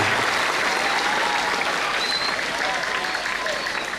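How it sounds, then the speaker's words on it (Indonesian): A large student crowd at a junior high school assembly gives sustained, even applause, a dense wash of clapping that holds steady for about four seconds. "Tepuk tangan semuanya"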